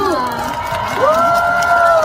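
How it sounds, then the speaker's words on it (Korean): Concert crowd at a show at Songtan cheering and clapping together, a dense sustained roar of voices with high shouts rising over it, loud and continuous throughout. "다 같이 박수."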